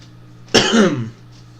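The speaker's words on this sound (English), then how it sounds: "My throat's been really annoying me the last couple of days, so I keep coughing" A single close, harsh cough, or throat clearing, bursts out once and stops after about half a second, alone in a quiet room.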